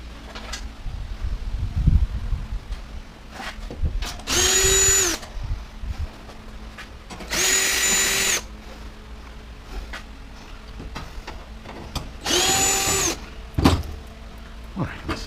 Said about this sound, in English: Let's take a couple more screws off.